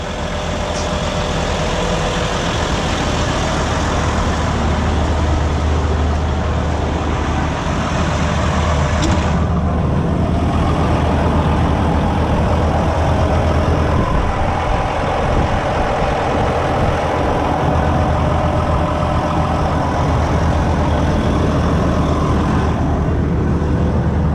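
A 13.5-litre John Deere engine with an electronically controlled variable-geometry turbo powers a John Deere 7750i forage harvester, running steadily and loud for the whole stretch with a deep, constant drone and no talk over it.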